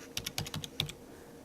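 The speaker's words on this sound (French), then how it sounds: "Je le saisis sur le clavier de mon ordinateur" A PIN code tapped out on a computer keyboard: a quick burst of about eight crisp, close key clicks in uneven rhythm, then quiet.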